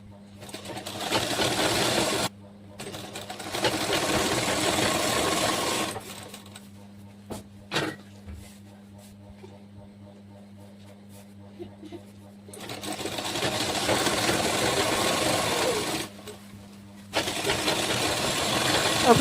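Sewing machine stitching petticoat fabric, bursts of steady mechanical whirring separated by quiet pauses, with a voice speaking during the breaks.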